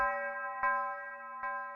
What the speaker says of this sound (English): I just laid down a basic tubular bell with some reverb on it.